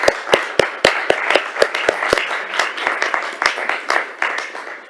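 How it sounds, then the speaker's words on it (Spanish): Audience applause at the close of a talk in a university lecture hall, a sparse crowd of distinct sharp claps of uneven rhythm that thins out toward the end, heard fairly close. "pido de nuevo una ovación, un aplauso para su intervención"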